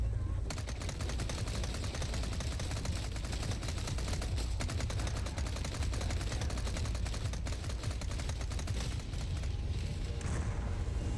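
Rapid gunfire from a Resident Evil 4 Remake shooting sequence, dense bursts of shots fired at enemies, loud and sustained throughout with little pause.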